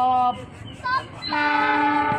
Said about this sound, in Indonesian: Lokomotif dinas persiapan melintas langsung dengan nomor KD1L2705.